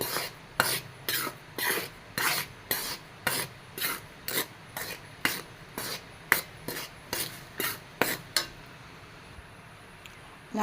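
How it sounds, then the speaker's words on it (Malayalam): A spoon stirs roasted kozhukkatta filling in a pan over low heat, making a steady series of about fifteen rhythmic dry scrapes against the pan bottom, close and loud with no talking. "ഒന്ന് ഇളക്കി കൊടുത്തുകൊണ്ടേ ഇരിക്കുന്നുണ്ട് അടി തട്ടിയിട്ട് തന്നെ ഇളക്കുന്നുണ്ട്"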